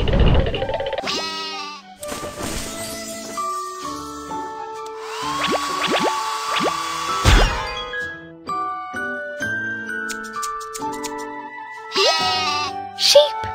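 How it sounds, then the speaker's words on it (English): Sheep bleat several times in an animal park, their voices mixed with bright jingling bells and tinkling dings, clear and close with short pauses between sounds. "Sheep. Sheep."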